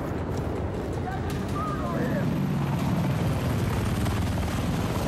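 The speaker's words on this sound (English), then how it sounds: "Guys, an enemy chopper." Enemy helicopter in the video game Battlefield 4, a steady rotor drone running the whole time beneath dense gunfire and battle noise, with people talking over it.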